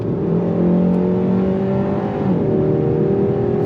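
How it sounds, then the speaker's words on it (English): A 2025 Hyundai Sonata N-Line accelerates hard from inside the cabin, its engine droning loudly and steadily while the 8-speed dual clutch transmission shifts smoothly through rising pitch sweeps. "That 8-speed dual clutch transmission shifts very well."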